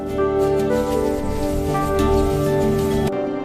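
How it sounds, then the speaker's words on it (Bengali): Steady rain falls over farm fields in a village, a dense continuous patter lasting about three seconds against a sustained tonal background, then cutting off abruptly. "কয়েক মাস পরে বৃষ্টি নামলো আর মাঠ ভরে উঠল সবুজ ফসলে"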